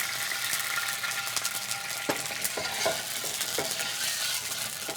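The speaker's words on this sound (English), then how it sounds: "So we're going to start with a teeny bit of olive oil on a nice warm pan, some white wine" Olive oil and white wine sizzling in a warm pan as a crab ravioli dish begins, a loud continuous hiss close up with scattered sharp spits and pops.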